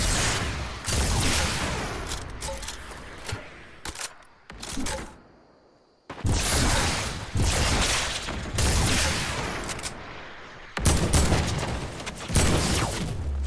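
Gunfire in the Fortnite video game, laid down as cover fire: loud bursts of shots fill most of the stretch, broken by short pauses and a near-silent gap partway through.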